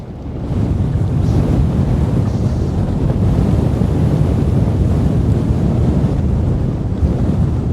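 Strong wind of roughly 13 to 14 mph blowing at a shoreline fishing spot, a loud steady low rumble buffeting the microphone throughout with no talk.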